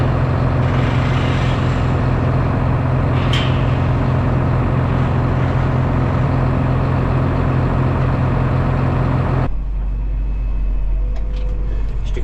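A four-wheel-drive tractor engine pulls a Mastek dribble bar across a wet field, running loud and steady at close range with a deep continuous drone. Partway through, the sound drops suddenly to a lower, more muffled rumble.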